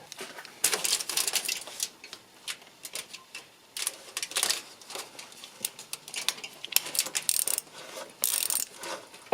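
A ratchet working loose Torx 30 bolts on a faulty AL4/DP0 automatic gearbox, giving bursts of sharp metallic clicking with short pauses between them, close up and with no talking.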